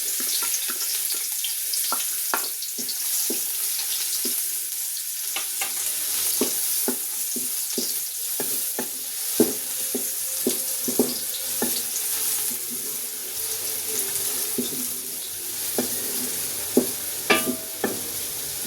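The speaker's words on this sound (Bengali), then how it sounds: "তেলটা গরম হয়েছে, আমি পেঁয়াজটা দিয়ে বেরেস্তা করে নিচ্ছি।" Sliced onions frying in hot oil for birista, with a continuous bright sizzle and a spatula that knocks and scrapes the pan in irregular, fairly close strokes.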